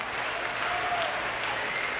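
A wrestling arena crowd at a 1986 WWF event applauds in a steady, dense wash of clapping, with faint voices mixed in throughout.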